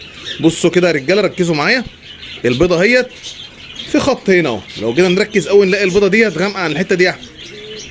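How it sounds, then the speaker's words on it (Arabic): Pet birds in a home aviary chirp and coo through the background while someone talks continuously over them, with several bursts of calls between his words. "سامحوني طبعا على صوت العصافير"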